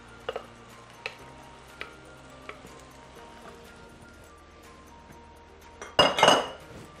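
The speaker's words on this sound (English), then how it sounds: "So let's just mix this." Ground beef stirred in tomato sauce in a pot for lasagna, with a few light clinks of a spoon against the pot, then a louder burst of scraping and clattering near the end.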